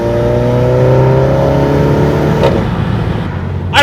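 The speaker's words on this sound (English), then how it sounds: "Now you can actually like kind of hear the turbo whistle a little bit better" A turbocharged car with its turbo muffler deleted revs loudly up close, a steady engine drone topped by a rising high-pitched turbo whistle that falls away as the revs drop, ending in a sharp burst.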